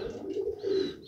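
Pigeons coo up close in a winter pigeon-keeping setting, two or three soft, rounded throaty coos in quick succession, clear and fairly loud with no talking.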